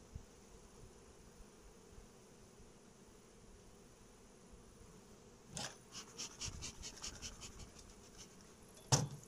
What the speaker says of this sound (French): Sympa les abeilles.